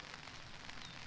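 Steady rain falling outdoors beside a tomato trellis, a soft, even hiss of drops pattering on surfaces at close range for the full second, with no voices.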